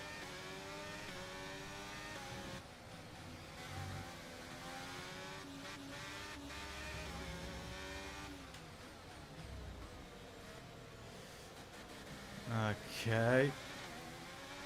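An F1 race car engine in the F1 23 video game whines at high pitch through shifting revs while overtaking in the Bahrain Grand Prix, heard under a brief spoken word.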